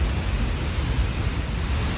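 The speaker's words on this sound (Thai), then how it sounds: "มันก็เหมือนเป็นน้ำไหลลาดตกลงมาค่ะทุกคน" A steady wash of rushing water pours down a sloping stretch of rock at the top of a waterfall in Pakxong, southern Laos, forming a dense, constant broadband roar with no voices.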